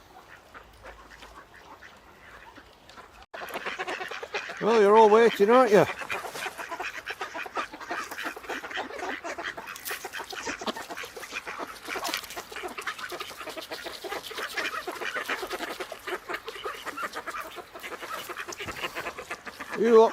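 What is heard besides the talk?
ducks quacking by a river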